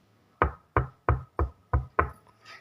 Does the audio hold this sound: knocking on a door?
yes